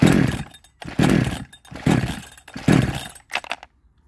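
A 62cc Chinese chainsaw engine runs in short, uneven bursts that surge and cut out repeatedly, loud and close, before dropping away at the end.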